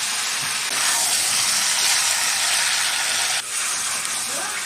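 Meat curry with spices sizzles and fries steadily in a pan, a loud, continuous hiss with faint stirring, close and without talk.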